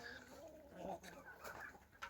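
Hens cluck and murmur continuously at a low level, ending with a couple of louder squawks.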